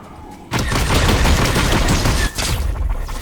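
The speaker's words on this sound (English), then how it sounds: "A headshot from Captain America" Video game gunfire in a Star Wars–themed match, a sustained burst of loud shots that ends in a headshot, with dense, continuous firing filling the whole stretch and no talking.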